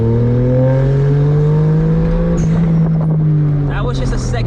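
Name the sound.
1991 Suzuki Cappuccino kei car accelerating in second gear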